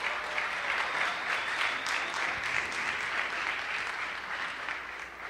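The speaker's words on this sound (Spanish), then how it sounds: "Me gustaría que pudiéramos darle un fuerte aplauso a esta hermosa familia" A room full of people gives a family a long, even round of applause that sounds a little distant, with no voices over it.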